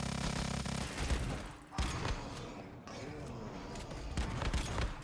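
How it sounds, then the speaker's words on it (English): Gunfire in the survival shooter Once Human, bursts of shots and thuds crackling in repeated volleys, close and loud, with a voice talking over parts of it. "Please stop shooting at me."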